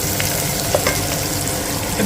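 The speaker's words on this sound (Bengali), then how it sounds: "পেঁয়াজটা মোটামুটি অনেকটাই ভাজা হয়ে গেছে" Onions frying in mustard oil with a little salt and sugar added, for a home-style chicken curry, give a steady loud sizzle with the scrape of stirring throughout.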